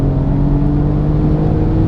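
Alfa Romeo Giulia engine pulling hard under acceleration during a spirited road drive, a loud steady interior drone with a strong low hum, heard alone without talk.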